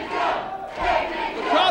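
At an NWA Wildside hardcore wrestling title match, the crowd roars in a loud, sustained wave of cheering and shouting that swells and dips over a couple of seconds.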